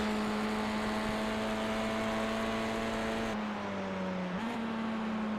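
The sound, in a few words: race car engine, Audi touring car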